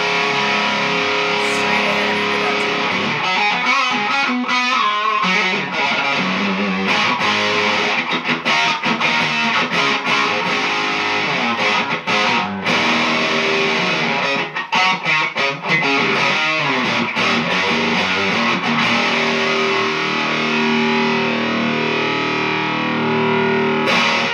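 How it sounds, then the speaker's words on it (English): An electric guitar plays through a Turbo Overdrive DS2 pedal with the turbo switched off, giving a continuous gritty distorted tone of riffs and sustained chords that fills the whole stretch with no talking. "This is a turbo overdrive DS2 with the turbo turned off."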